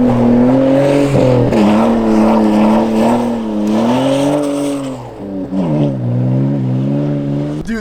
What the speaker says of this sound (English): I am full throttle. Get it, Volkswagen.